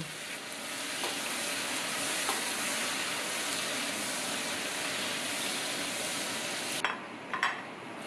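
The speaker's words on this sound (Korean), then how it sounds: "찻잎을 볶아낸 기름에 돼지 삼겹살을 튀기듯 볶아주는 차샹 홍샤우로" Pork belly stir-fried in oil from roasted tea leaves, giving a steady, loud, dense sizzle and crackle of hot oil throughout, with a few clinks of utensils against the pan near the end.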